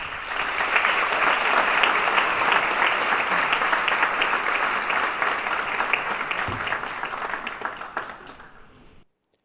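An auditorium audience at the American University in Dubai applauds a speaker coming to the podium, with sustained, dense clapping held at a steady level for several seconds before it thins and stops abruptly.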